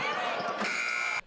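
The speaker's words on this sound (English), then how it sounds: "It was the buzzer to signal that the shot clock had run out." Basketball shot clock buzzer sounding at the end of a possession in a women's game, a sustained loud electronic drone lasting just over a second over arena noise, cutting off abruptly.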